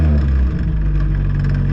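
A Nissan S15 car engine revs loudly and continuously up close, a dense low-pitched roar with steady harmonics throughout.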